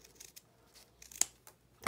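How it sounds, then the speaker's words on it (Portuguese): Scissors snip through ribbon while a bow is being made, giving a few quiet, close clicks and a sharper cut near the middle. "Pegar a minha tesoura e cortar."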